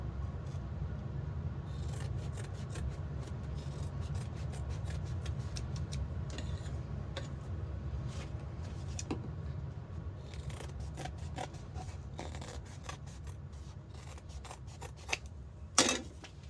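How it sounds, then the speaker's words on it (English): Scissors snip through extra foam while a padded anti-theft backpack is being sewn, a run of quiet, close crisp cuts and rustles over a low steady room hum, ending in a sharper final snip. "I'm gonna trim off this extra foam"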